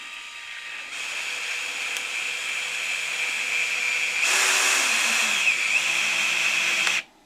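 A Bosch drill drives a 2-inch cabinet screw, its motor whining steadily for about six seconds and rising in pitch and load partway through before stopping abruptly.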